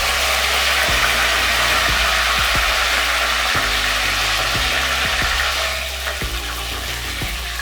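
Cashews and mint leaves frying in a pan of oil for bagara rice, a loud continuous sizzle with occasional soft knocks of a spoon against the pan, easing slightly toward the end.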